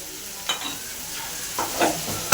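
Ground cumin and coriander being stir-fried in a pan, a few scraping stirs in a quiet kitchen with a soft sizzle, ending in a louder scrape.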